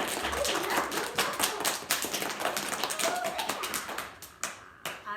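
Pupils at a Friday school award assembly clap for a classmate, a brisk crackle of many small hands close by that thins into scattered individual claps at the end.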